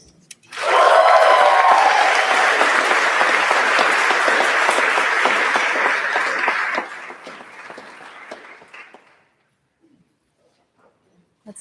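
Audience at a graduation celebration bursts into loud sustained applause, many hands clapping for several seconds before thinning out and fading to silence.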